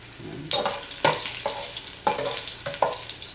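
Ginger frying in a hot pan for a chicken mechado, a few spaced spatula scrapes and knocks over a soft, continuous sizzle, close and unaccompanied by speech.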